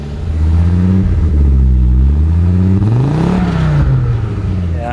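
An Audi Quattro's engine revs up and down in several rising and falling sweeps, loud and close, with a steady idle rumble between throttle blips.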